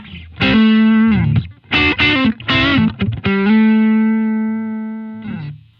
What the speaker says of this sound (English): You take a dirty tube amp and you smash a fizzy green mid-pushed overdrive into it